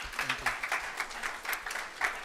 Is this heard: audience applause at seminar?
yes